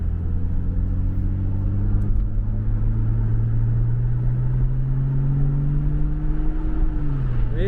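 A Porsche 987 Boxster's naturally aspirated rear-mounted engine rumbles low and steady from inside the car while cruising, its tone climbing gradually before dipping near the end, with no talking.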